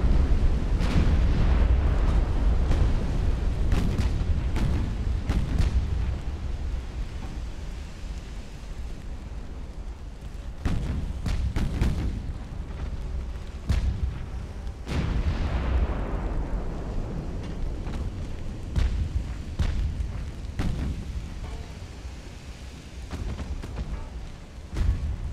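Heavy naval combat in Ultimate Admiral: Dreadnoughts as a torpedo strikes a warship at close range, with deep rumbling explosions and booming impacts repeating over a continuous roar of battle.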